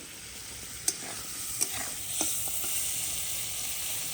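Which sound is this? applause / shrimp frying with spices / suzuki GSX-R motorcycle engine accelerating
shrimp frying with spices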